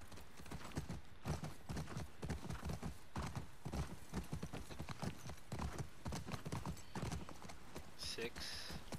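Horse hooves clip-clop steadily in The Last of Us Part II, with a brief whinny near the end, heard under continuous talk from a player.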